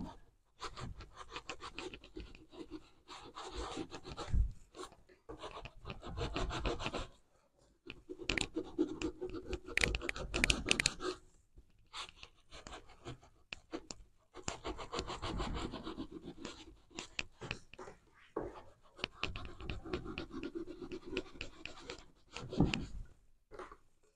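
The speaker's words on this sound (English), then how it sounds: "scrub at it like this." Fingers scrubbing wet paper fibers off a photo transfer, close rough rubbing and scratching in bursts with brief pauses, fairly quiet with no talking.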